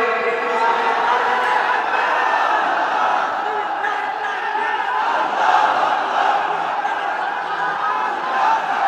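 A large crowd at an outdoor Islamic sermon roars a sustained, loud collective shout of takbir, filling the full length with dense massed voices that swell slightly toward the middle.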